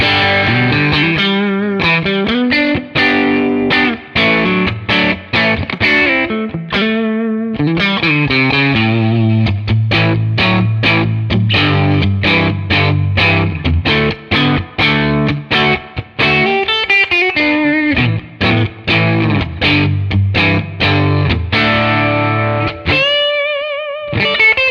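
Electric guitar played through a Tonex amp capture on the middle pickup position, a driven, overdriven tone with strummed chords and single-note runs, loud and continuous with brief gaps, no talking.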